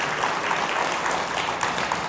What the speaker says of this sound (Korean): 큰 박수 한번 보내주시고요